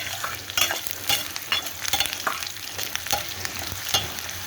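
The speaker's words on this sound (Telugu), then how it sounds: "బాగా వేయించాలి బాగా చూడండి కలర్ఫుల్గా ఉంది కదా" Raw banana pieces fry in a pan with a steady, close sizzle, broken by repeated scraping clicks as they are stirred with a utensil.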